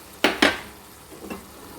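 Lentil dumplings (dal bori) drop into a hot pan of pumpkin-stem vegetable curry cooked without onion or garlic, giving two sharp sizzling bursts close together, then a softer third sizzle a moment later.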